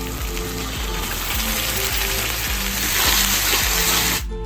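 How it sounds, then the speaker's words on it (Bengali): Ginger paste sizzles hard in hot oil with browned onion and garlic while a catla fish kalia is being made in a village kitchen. The frying is steady, loud and close, with crackling that rises slightly near the end. "আদা খুব ভালো করে ভাজা হয়ে গেছে"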